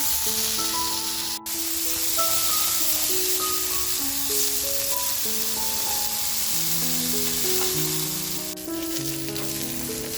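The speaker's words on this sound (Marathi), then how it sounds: "तर बघा दुसऱ्या बाजूने सुद्धा असा छान बोंबील आपला फ्राय झालेला आहे." Bombay duck (bombil) fillets frying in a pan, a steady, close crackling sizzle running continuously with faint background music over it.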